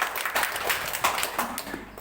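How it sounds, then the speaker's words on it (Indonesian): Audience clapping at a learning center launch event in Grujugan village, a brief spell of scattered applause at moderate volume. "Tepuk tangan kita berikan apresiasi"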